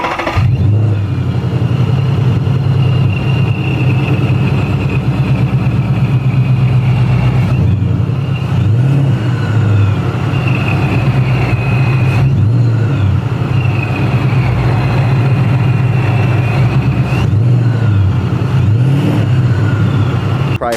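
A Paxton supercharged Ford Mustang engine idles loud and close with a steady rumble, then rises into several brief revs that fall back to idle, with faint supercharger whine above.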